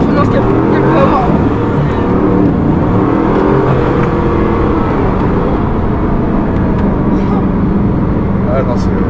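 A Bugatti Chiron sports car engine roars steadily up close as the car accelerates hard, with a person talking over the continuous engine noise.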